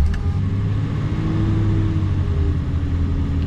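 A Datsun 280Z engine fitted with Fast EFI fuel injection runs at a steady, loud idle after startup, with a low rumble holding constant and no one speaking.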